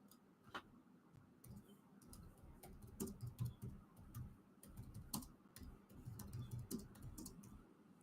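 Keys clatter on a faulty computer keyboard that drops letters, a quiet, uneven run of close taps and clicks in bursts with short pauses between.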